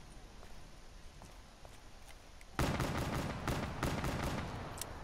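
Revolver gunshots in Call of Duty: Black Ops III Zombies, a sudden loud crack followed by a rapid string of sharp, close shots with ringing decay, over faint background game noise.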